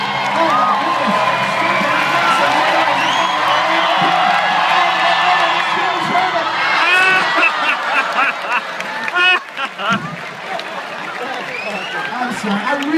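Fairground crowd cheering, whooping and clapping at a pig race, a dense continuous roar of voices and applause with an announcer talking over it throughout.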